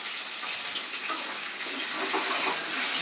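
Taro (gathi kochu) frying in a pan with salt, giving a steady, close broadband sizzle with faint crackles throughout and no voices.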